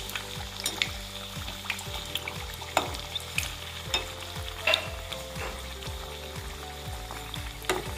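Milk-filled gokul pitha cakes turned over in hot white oil sizzle steadily in a wok, with repeated scraping stirs and light clinks at an irregular rhythm, close and moderately loud.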